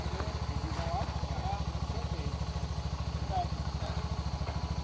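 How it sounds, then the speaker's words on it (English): A shaft-drive motorcycle with a failed starter being bump started, its engine thumping in a rapid, steady pulse, close and loud throughout. "Our tour guide Eric bike starter went out, so we have to bump start."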